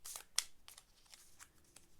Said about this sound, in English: I love shuffling these cards.